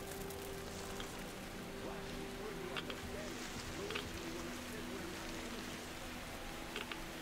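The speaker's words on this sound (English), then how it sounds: "No, it is raining." Rain falls in the video game Metro Exodus as a steady, soft hiss over a low droning hum, with a few faint patters rising now and then.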